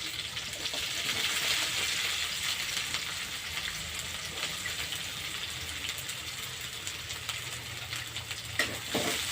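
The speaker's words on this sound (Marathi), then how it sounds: "कांदा चांगला भाजून घ्यायचा आपल्याला." Onion frying in a pan for a fenugreek (methi) dish, a continuous soft sizzle with stirring scrapes throughout, fairly quiet and steady, a sharper clink near the end.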